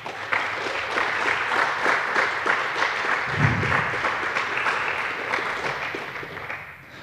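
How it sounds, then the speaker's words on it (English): Warm audience applause welcoming a speaker at a hacker camp talk, continuous crowd clapping with a brief low thump partway through, tapering off at the close. "Please give a warm welcome, a round of applause to Sebastiaan Provost."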